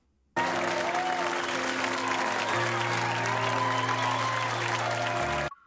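Thunderous applause and cheering from a surging crowd, a dense, loud burst of clapping that starts abruptly, holds steady for about five seconds, then cuts off.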